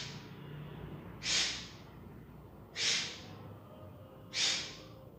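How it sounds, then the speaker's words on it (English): Three forceful, sharp exhalations through the nose during a pranayama bending exercise, evenly spaced about every second and a half, close and breathy against a quiet room. "at every bend, you are forcefully throwing out your breath"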